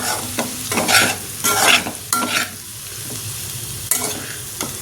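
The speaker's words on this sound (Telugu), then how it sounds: "తాలింపులో ఆనియన్స్ కరివేపాకు కాస్త వేగాక అరటికాయ ముక్కలు అయితే వేసుకున్నాను" Raw banana pieces fry in a pan with onions and curry leaves, giving a loud, close sizzle broken by repeated scraping stirs, with no talking.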